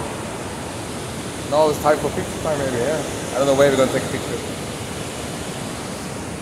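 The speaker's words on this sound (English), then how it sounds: "Now it's full water in the waterfall." Vøringsfossen waterfall in Norway, running full after heavy rain, gives off a steady, broad roar heard at a distance while people chat casually over it.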